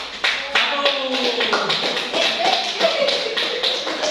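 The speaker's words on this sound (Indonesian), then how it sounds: "kasih aplaus untuk kelompok 1" A small class group gives a round of applause with brisk, uneven hand clapping, fairly close and loud, while voices talk over it throughout.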